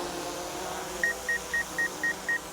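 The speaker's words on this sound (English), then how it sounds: "That beeping's to notify that there's an obstacle in the way" A small consumer drone flying close to a house sounds its obstacle warning as a series of seven short, evenly spaced electronic beeps over a steady background hum of rotors.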